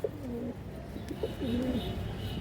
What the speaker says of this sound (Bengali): সিলভার কালার নর কবুতর লাল গিয়ারের খুব সুন্দর একটা কবুতর